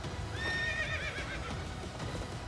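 A horse whinnies loudly in a high, wavering neigh in the video game Fire Emblem Three Houses, accompanied by hoof clip-clops and background game noise.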